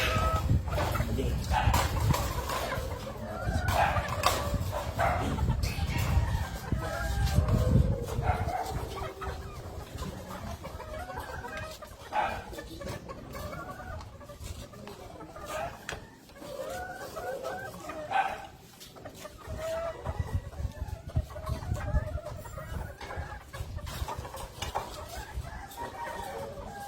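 Backyard chickens in a small space clucking and calling intermittently, with a rooster-like crow and scattered faint sounds amid handling noise, while someone speaks at times over the birds.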